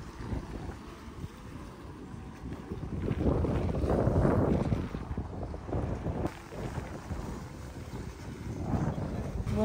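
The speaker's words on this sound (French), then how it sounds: "l'eau, elle est vachement agitée parce qu'il y a beaucoup de vent" Strong wind buffets the microphone beside a choppy sea at a small beach on Milos, with rough surging water and gusty rumble rising and falling throughout.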